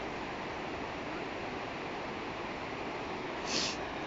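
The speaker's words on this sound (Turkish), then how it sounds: "Şurada dere akıyor." Steady rushing water of a flowing stream in Rize, Turkey, a continuous broadband wash with no voices and one brief faint high chirp near the end.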